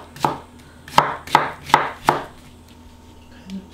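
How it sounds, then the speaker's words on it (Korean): A knife chops zucchini into thick slices on a cutting board for potato sujebi, five crisp, evenly spaced cuts close by followed by a quieter tap, with no talking. "너무 얇게 썰지 말고 약간 도톰하게 썰어줘요."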